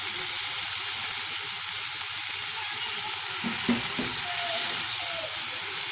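Chicken pieces sizzle steadily in a hot pan for quiche filling, a dense, even crackle with a few louder spatters and clinks, close and alone with no talking.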